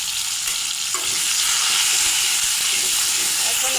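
Potatoes frying in mustard oil with salt and turmeric, giving a loud, continuous close-up sizzle and hiss with light stirring noises.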